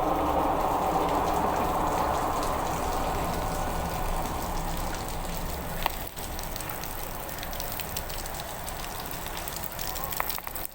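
Heavy rain falls outdoors on a location shoot, a dense and continuous patter that eases slightly partway through, with a few sharp drips or knocks standing out near the end.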